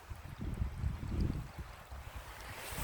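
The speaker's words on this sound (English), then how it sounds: "somewhere where you see a river literally crossing the path" A small river crossing a hiking path on the Southern Upland Way gives a soft, steady outdoor rush of flowing water mixed with low wind rumble, faint and without voices.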